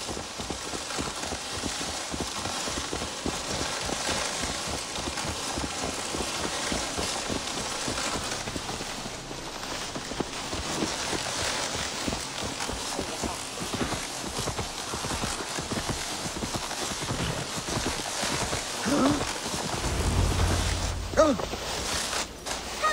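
Horse hooves clip-clopping steadily in Assassin's Creed Valhalla, a continuous rhythmic trot at close range over wind and ambient game background, with a heavier low rumble near the end.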